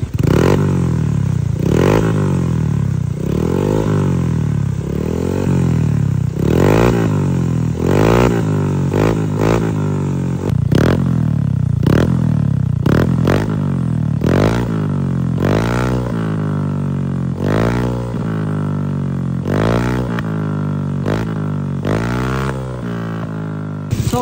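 A Yamaha Mio i 125 scooter fitted with a KVIN exhaust pipe revs hard, close and loud, throttle blipped repeatedly in rising and falling bursts, with no voices over it.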